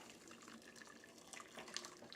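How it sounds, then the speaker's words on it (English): Boiling water pours onto lemon jello in a kitchen bowl, a soft continuous splashing trickle with light gurgles, faint and alone. "Putting the boiling water to the lemon jello."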